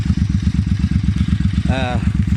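A 2005 Suzuki C800 motorcycle engine thumps steadily at a low, pulsing rhythm, loud and close throughout, with a brief whining tone rising above it near the end.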